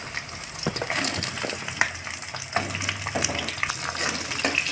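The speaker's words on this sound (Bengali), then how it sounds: "এবার পটলটাকে ভেজে নেওয়া হচ্ছে।" Slices of pointed gourd (potol) frying in hot oil in a home kitchen give a steady, hissing sizzle with small crackles and pops that carry on without a break.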